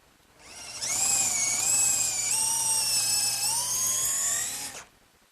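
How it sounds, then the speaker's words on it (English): An electric drill enlarges a pilot hole in a drop leaf table with a larger bit, giving one steady, close, high-pitched whine of about four seconds whose pitch wavers slightly before it cuts off, with nothing else heard. "I'm just going to use a larger bit in the drill"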